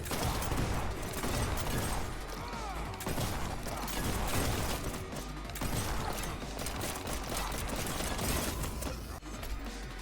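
Shotgun gunfire during a video game boss fight, a dense, continuous barrage of blasts and clattering mechanical effects at a low, even level throughout.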